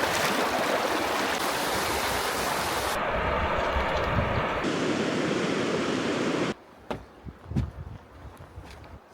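The Waimakariri River in New Zealand flows in a loud, steady broadband rush of water close by, continuous for most of the stretch before dropping away to quieter, broken splashing near the end, with no voices.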